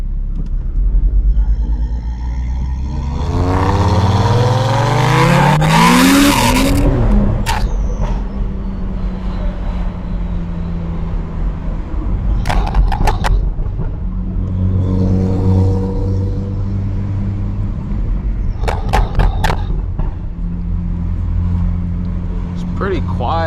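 A BMW 335i with the N55 engine drives at night, its exhaust droning low and rising through one strong rev. Engine rumble, passing traffic and people talking over it fill the cabin.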